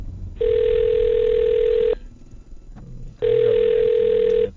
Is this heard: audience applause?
no